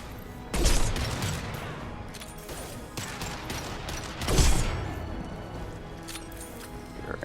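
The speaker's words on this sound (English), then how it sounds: "Concussive shot ready." Mass Effect 2 concussive shot and gunfire: two heavy, booming blasts about four seconds apart, each followed by a rumbling tail, with lighter crackling shots and mechanical clatter between them.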